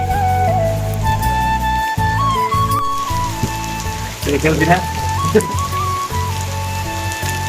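Heavy rain pounds a shelter beside a waterlogged playing field, a loud, dense hiss that holds steady from start to finish while voices and other tones sit on top of it.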